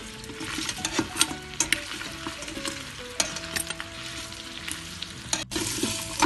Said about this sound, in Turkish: Şimdi iyice kavuracağım kokusu çıkıncaya kadar.